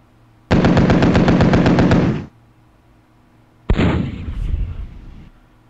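Gunfire in the WinSPMBT war game, Greece versus Turkey: a loud, sustained burst of rapid automatic fire lasting nearly two seconds, a short pause, then a second blast of shooting that trails off into a rumbling decay.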